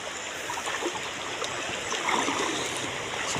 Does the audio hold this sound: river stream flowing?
yes